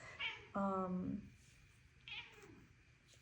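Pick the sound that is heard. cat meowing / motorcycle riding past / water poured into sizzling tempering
cat meowing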